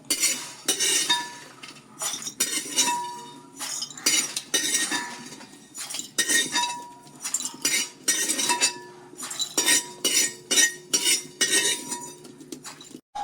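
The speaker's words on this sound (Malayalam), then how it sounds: "നമുക്ക് ഒരു പാത്രത്തിലോട്ട് ഇതൊക്കെ മാറ്റാം" Roasted coriander, chilli and masala spices are scraped and tipped from a pan into a vessel, with metal utensils clinking and knocking in quick, irregular bursts, close and clear, with no talking.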